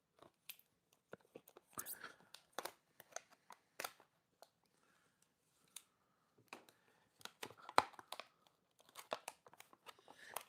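A package is cut and torn open by hand, with scattered bursts of tearing, crinkling and rustling separated by quiet gaps, close and fairly soft, with no talk.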